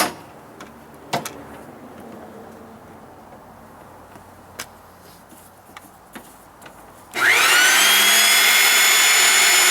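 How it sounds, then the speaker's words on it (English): A pipe cutting and threading machine for propane line work, rated up to 1 inch pipe, switches on late and runs with a loud steady whine after quiet clinks and taps. "We can cut it when we're done, and we can thread it. We can do up to 1 inch on this machine."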